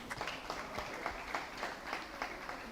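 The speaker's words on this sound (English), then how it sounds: "Can we please applaud for all of these achievers once again?" Applause from an audience at an Oshwal Academy Nairobi awards gathering, honouring student achievers: a moderate, steady patter of clapping with faint pulses, somewhat distant, lasting a few seconds without talk.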